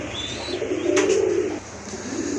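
A single low, rolling pigeon coo up close, loud and clear, followed by a softer second call amid quiet background, at a pigeon sale.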